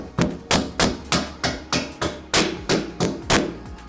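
A mallet strikes a bolt in a steady series of about eleven loud, evenly spaced blows while the engine is being fitted into a Land Rover Defender.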